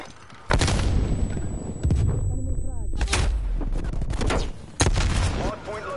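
Frag grenade blasts and rapid gunfire in a Call of Duty Cold War Hardpoint match, with loud booming explosions and bursts of shots crowding together at close range.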